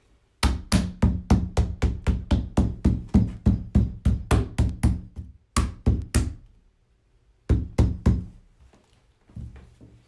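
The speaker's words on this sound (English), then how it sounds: "Again, use your rubber mallet." A rubber mallet knocks on chicken cage parts during assembly, a steady run of about twenty close, hollow thuds, then a pause and a few more spaced blows.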